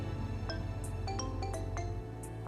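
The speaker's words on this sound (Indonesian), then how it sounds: "Ada telepon tuh." A phone ringtone plays steadily, a repeating electronic melody with bright chime-like notes over a continuous low tone, fairly loud and close.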